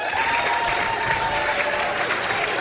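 Audience at a Hindi stand-up comedy show breaking into steady applause, a continuous, even wash of clapping from a sizable crowd with no break.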